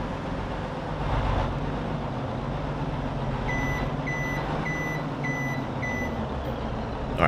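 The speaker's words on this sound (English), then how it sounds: "when this truck hits third gear, it just takes off." A Ford truck hauling a dump trailer in Farming Simulator 22 gives a steady, broadband engine rumble. A series of regular electronic beeps sounds over it partway through, and there is no talking.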